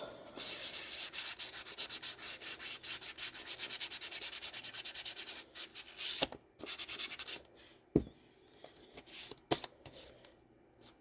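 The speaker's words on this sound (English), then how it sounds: "the envelope, I'm going to sand a little bit on the back" Sandpaper rubs quickly back and forth across the back of a paper envelope in fast rhythmic strokes. It then slows into a few scattered scrapes and light taps, close and fairly quiet.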